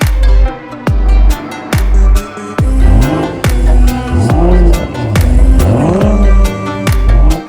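A Ducati Diavel motorcycle engine revs hard in a series of loud, close throttle blips, each roar dropping away before the next, with no voices.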